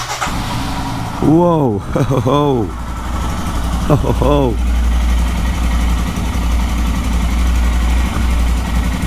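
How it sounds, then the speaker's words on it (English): A Royal Enfield Himalayan motorcycle engine cold-starts in a parking area, cranking and revving in a few quick bursts, then settles into a steady, low rumbling idle while a man exclaims over it. "That's how the engine sounds."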